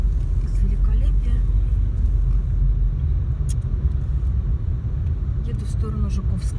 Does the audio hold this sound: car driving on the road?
yes